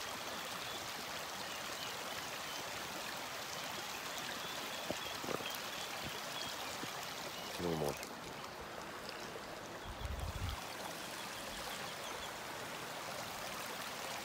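Water in a river flows in a steady, faint rush, with a few soft splashes and knocks breaking through the continuous wash.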